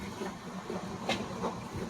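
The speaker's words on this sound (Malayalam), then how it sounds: "ട്രെയിൻ മൂവ് ചെയ്തുകൊണ്ടിരിക്കുകയാണ്." Moving train heard from inside a carriage: a faint, steady rumble and hiss with soft rattles, and no one speaking.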